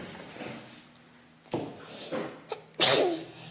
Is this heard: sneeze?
yes